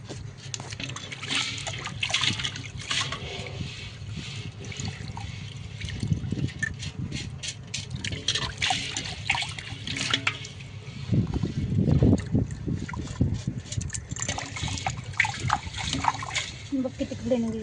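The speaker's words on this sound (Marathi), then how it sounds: "पण मी घोळून वगैरे चांगली धुवून घेतली ज्वारी." Sorghum grains being swished and washed in a pot of water, with steady sloshing and splashing that swells in bursts, heard up close while someone talks over it.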